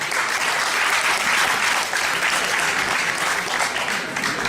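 A live broadcast audience applauds the actors of a murder-mystery show on Oléron, a dense, steady wash of many hands clapping at full volume, loud and sustained throughout without talk.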